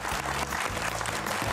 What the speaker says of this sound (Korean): 한국 TA의 강명훈 대표에게 다시 한번 큰 박수 감사합니다. 부탁드리겠습니다